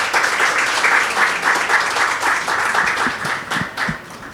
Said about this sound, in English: Please give them a final round of applause.